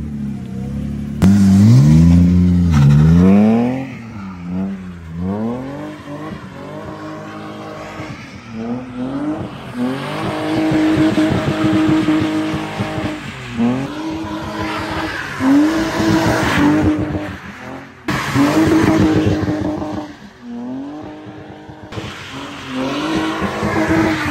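A car drifting on a wet rainy road in Buhovtsi, its engine revving hard in loud rising and falling sweeps with tire squeal and skidding, recurring through the run with brief lulls between passes.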